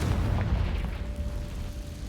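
A Confringo blasting spell explodes in Hogwarts Legacy as a dull, low boom that rumbles on steadily at moderate volume with no voices.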